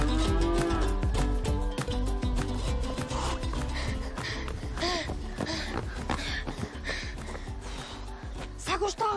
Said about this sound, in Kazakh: О, бұзау!